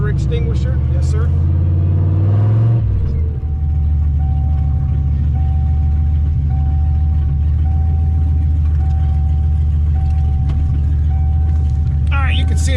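A turbocharged Ford Foxbody with a GT40 stock-block engine runs loud and close, with a deep rumbling drone that rises and then holds steady, while a voice speaks briefly over it.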